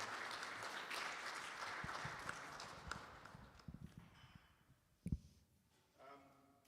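A church congregation claps steadily during a Sunday service, the sound thinning out and fading, with a sharp knock and a faint voice near the end.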